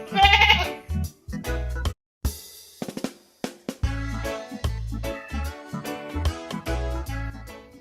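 A goat bleats loudly at the start, close by, followed by a steady musical backing track.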